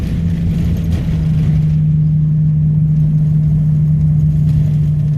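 A car driving on wet roads across open range, a loud steady low engine drone with a constant hum and faint tyre hiss, no talk.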